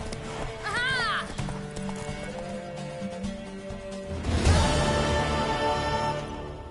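A horse gallops in a race in The Witcher 3, rapid hoofbeats drumming under game music with a brief whinny early on, then a louder burst of action as someone shouts encouragement.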